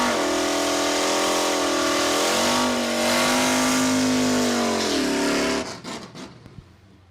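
A Y2K Ford Mustang drag car at Saskatchewan International Raceway revs hard and steady, a loud sustained engine tone rising and dipping in pitch before cutting off sharply, leaving fading rumble.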